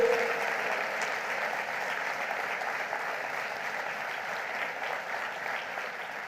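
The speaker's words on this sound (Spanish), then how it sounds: "Vamos, den un aplauso fuerte y diga gloria a Dios." A church congregation applauding during a Sunday service, steady and sustained clapping from many hands filling the room, loud and continuous throughout.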